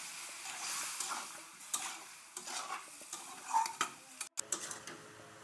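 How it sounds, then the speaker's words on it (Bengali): A spoon scrapes and stirs taro (kochu) curry in a pan, with soft sizzling and occasional clinks of utensil on metal, close and fairly quiet. "ভালো করে কষিয়ে নিচ্ছি, দিয়ে দিচ্ছি হালকা একটু জল"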